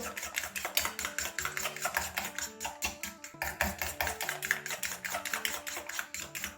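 Spices being beaten together with ginger garlic paste in a bowl for a Bengali egg and cauliflower fritter curry, a steady run of quick clinking taps of a utensil against the bowl, close and continuous with no talk.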